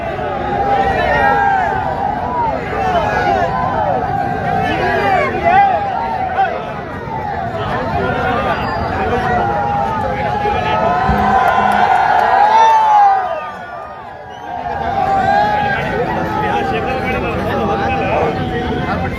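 A large crowd gathered to greet a celebrity in Karnataka, cheering, whooping and chattering loudly and continuously close by, with a brief dip in the noise before it surges again.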